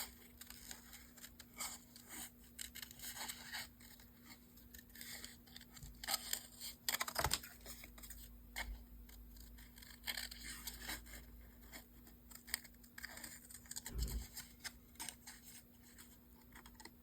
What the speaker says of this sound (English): I'm just going to take my scissors and I'm going to cut out my little